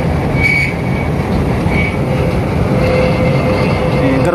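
A work train hauls long high-speed railway rails near tunnel GDK82 on the Jakarta–Bandung line, making a loud steady rumble with faint metallic squeals and rattles over it.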